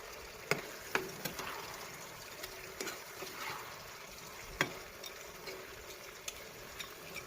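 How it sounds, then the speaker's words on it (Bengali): Pieces of goat head meat are stirred in spices in a pan, with soft scraping and sizzling and a few sharp clicks of the spoon against the pan, fairly quiet and steady. "এখন ভালোভাবে আমি নেড়ে চেড়ে নিব।"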